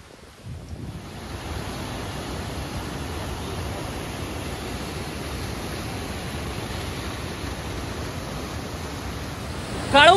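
Heavy rain and a rushing stream near Kalu waterfall form a steady, dense roar of broadband noise that holds for about ten seconds, rising briefly louder at the very end.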